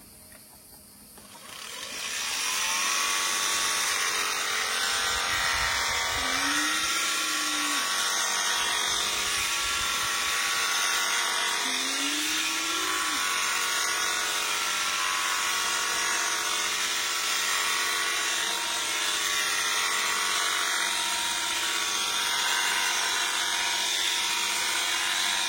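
Electric shears buzz steadily and loudly while shearing a llama, a continuous close motor whine that starts after a quiet moment and holds with slight wavers in pitch.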